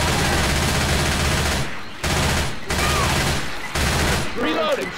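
Rapid automatic gunfire in the co-op zombie shooter Left 4 Dead 2, loud, close bursts of dense shots separated by brief pauses, with a faint voice under the shooting near the end.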